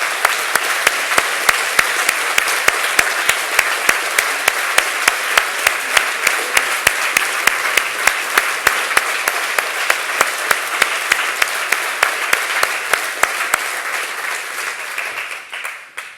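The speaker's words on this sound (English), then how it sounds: "Can I ask the colleagues from the LIBER office to stand up to give you again a round of applause?" A conference audience at a closing ceremony gives a long, loud round of applause for office staff, dense and even with a steady pulse of rhythmic clapping running through it before it tapers off at the end.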